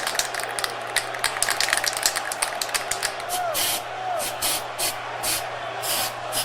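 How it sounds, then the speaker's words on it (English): Aerosol spray paint hisses in repeated short bursts during a WWE 2K wrestling match, mixed with crowd noise and arena sound. "looks like Christy has just spray painted Amber Gage"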